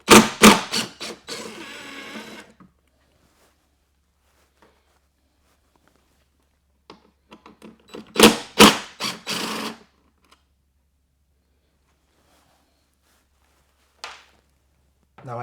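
Screws being backed out with a T25 bit on a 2019 Harley-Davidson Road King Special during a light install: two short bursts of clicky, scraping driver noise, a few faint taps between, and a last isolated click near the end.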